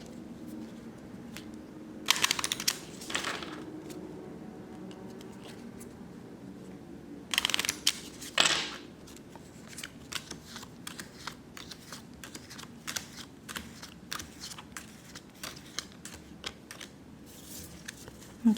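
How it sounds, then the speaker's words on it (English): Playing cards riffled in a few short, brisk shuffles during a quiet four-kings card reading, with soft handling clicks and table taps scattered between the bursts. "Okay, this is our last shuffle."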